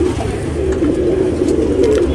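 A Kathang pigeon, an old-lineage breed, gives low, close, repeated cooing notes over a steady murmur.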